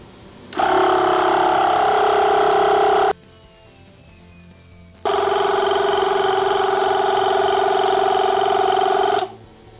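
An Audew portable two-cylinder air compressor inflating a car tire, a loud steady electric buzzing drone that runs about two and a half seconds, stops briefly and then starts again for several more seconds, close up.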